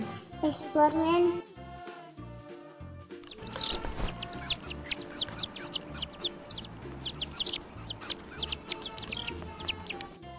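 Hen clucks and chirps mix with a voice and music in a children's phonics song, with short bursts of fowl calls over the melody.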